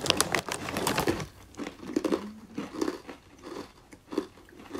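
Crunchy bites and chewing of a crispy, non-spicy baby murukku snack, several crisp crackles near the start followed by softer intermittent chewing crunches, close up with no talking.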